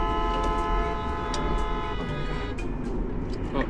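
Car horns honking in traffic around a moving car, a steady held blare with sustained harmonic tones over road rumble and engine noise, loud and continuous for several seconds with no talking.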